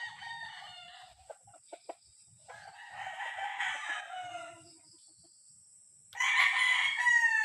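An F1 cross fighting rooster crows in several bursts, with brief clucks and soft knocks between the calls, fairly close and loud.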